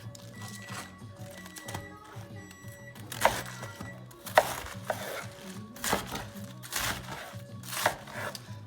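A knife chops through cabbage on a board in a series of crisp, irregular cuts, close and fairly quiet, with a faint low background hum.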